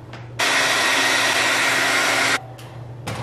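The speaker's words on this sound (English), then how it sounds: "Then I'm gonna plug in my dryer and dry that layer." A hair dryer blows steadily to dry a layer of liquid latex during makeup work, switched on for about two seconds as a loud, even rushing whoosh, then cut off, with a brief restart at the end.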